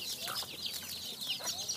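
Free-range chickens on a farm in Udon Thani peck at household leftovers, soft overlapping clucks over steady outdoor hiss.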